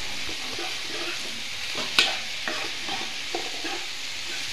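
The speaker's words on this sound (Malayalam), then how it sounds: "എണ്ണയും കടുകും ഒപ്പം നമ്മൾ ചേർത്ത് കൊടുത്തവയെല്ലാം ബീൻസിൽ നന്നായിട്ട് പിടിക്കാനായിട്ട് എല്ലാം കൂടെ ചേർത്തിളക്കി" A spoon stirs green beans sizzling in oil with mustard seeds in a Kerala beans mezhukkupuratti stir-fry, a steady soft frying hiss broken by scraping strokes and one sharp clink, no voices.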